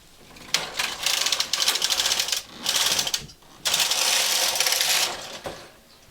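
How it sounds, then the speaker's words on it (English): A knitting machine carriage is pushed across the needle bed from left to right to knit one row, giving loud close rasping, clattering sweeps in several bursts separated by short pauses. "Now we just knit 1 row by moving the carriage from left to the right."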